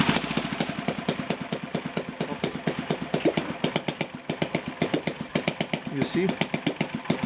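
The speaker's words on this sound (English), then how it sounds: "right now I will switch engine only on one cylinder" Enya VT 240 model V-twin engine idling on only its left cylinder, a steady rapid popping beat with uneven firing pulses throughout, close and loud, with someone briefly speaking over it.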